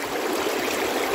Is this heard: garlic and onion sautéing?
no